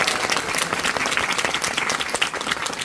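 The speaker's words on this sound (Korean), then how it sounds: "정말 여기까지 오르기까지 정말 많은 시간 동안 같이 해준 우리 배우 모든 분들에게 박수 한 번만." Steady applause from a theater audience for the cast at the closing-performance curtain call of the musical Ludwig, dense clapping filling the hall without pause.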